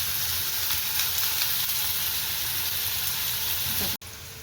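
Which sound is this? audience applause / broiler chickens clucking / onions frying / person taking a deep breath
onions frying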